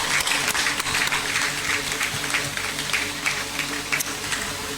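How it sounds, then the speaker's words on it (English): An audience at an official commissioning ceremony for B5 Plus applauds the staff, a dense, sustained round of clapping that stays fairly loud throughout and tapers slightly toward the end. "Shall we do a big round of applause for them?"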